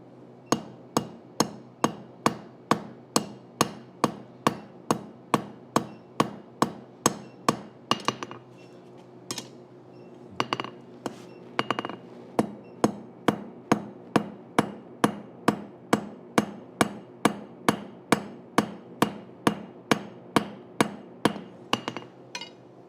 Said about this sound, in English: So I'm going to draw this out using my crossbeam.